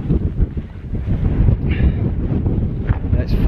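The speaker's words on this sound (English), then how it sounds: "You probably can't hear me because it's quite windy" Gusty wind buffets the microphone with a constant low rumble as someone talks over it while backpacking in the Yorkshire Dales.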